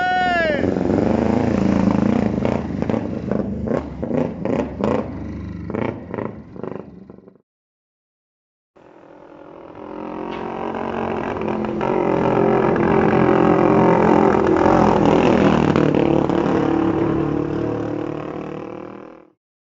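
A Kawasaki ER5 motorcycle engine runs loud and close in two stretches separated by a brief silence. The first is a series of rough, pulsing revs; the second is a longer, sustained roar that builds and then fades away.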